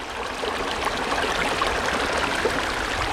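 Water runs steadily through a gold sluice box, a continuous rushing trickle with gurgling texture, close and even throughout.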